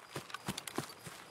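Footsteps of a player character in the video game Escape from Tarkov, a handful of irregular soft thuds and scuffs spaced a few tenths of a second apart, fairly quiet, with no talking over them.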